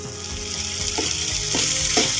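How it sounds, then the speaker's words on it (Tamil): Cracked egg frying in a pan with chayote, a loud continuous sizzle close by with a few soft stirring thuds and scrapes. "இப்போது ஒரு முட்டையை எடுத்து உடைச்சி"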